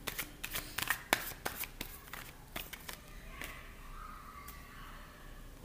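Tarot cards are shuffled close up in a quiet room, a run of crisp riffling snaps and flutters that thin out into softer sliding and tapping.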